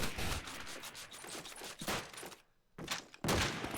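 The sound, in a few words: M1 rifle gunfire in video game Call of Duty 2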